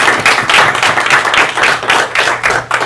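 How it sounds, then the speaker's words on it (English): People at a city council meeting giving a round of applause, a close, loud burst of clapping with a rhythmic pulse of hands throughout. "let's give them a round of applause"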